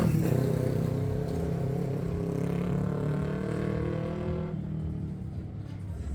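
A car passes along a town street in a tourist neighbourhood, its steady engine rumble loud and close, then fading slightly toward the end, with no voices.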